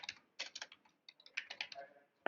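Quick bursts of keys clatter on a computer keyboard as a project name is typed, the presses arriving in uneven runs with short pauses between them.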